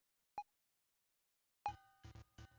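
Short electronic beeps sound when two objects collide in a game-jam video game: a lone bleep, a pause, then a cluster of bright tonal blips with clicky, stuttering bursts.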